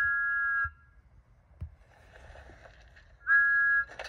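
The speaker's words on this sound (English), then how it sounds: "He blew his whistle very loudly." Two bright, sustained steam whistle blasts from a cartoon steam engine, one at the start and another near the end, with quiet rumbling in between.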